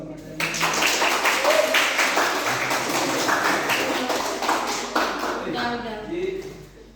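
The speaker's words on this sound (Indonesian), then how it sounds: "Kita beri aplaus." A classroom audience applauds a presenting student group, a dense burst of hand clapping that starts suddenly, stays full for several seconds and then thins out as individual claps trail off, with a few voices mixed in.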